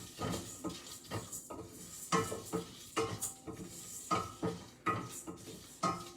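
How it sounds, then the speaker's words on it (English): Vegetables sauteed in a pan without oil, stirred in a steady rhythm: repeated scraping and clattering strokes about once a second over a faint sizzle, close and alone. "And then I'll be sauteing this. You don't need oil to saute."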